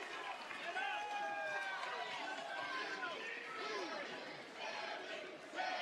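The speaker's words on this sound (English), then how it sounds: "the Sami chants from this capacity crowd in Green Bay" A capacity arena crowd at WWE Raw in Green Bay chants for Sami Zayn during a main event, a loud, sustained roar of many voices with rhythmic chanting running throughout.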